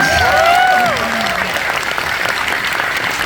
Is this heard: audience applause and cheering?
yes